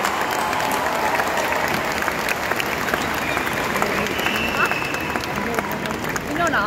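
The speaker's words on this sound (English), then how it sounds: "Round of applause for him." A big crowd applauds the Chief Minister at the Chess Olympiad 2022 closing ceremony, with sustained, dense clapping and faint crowd murmur filling the hall and staying loud and even throughout.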